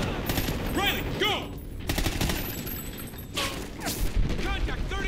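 Automatic gunfire in the Call of Duty: Ghosts military shooter, sustained bursts of rapid shots crackling loudly throughout alongside scattered shouted voices and game effects.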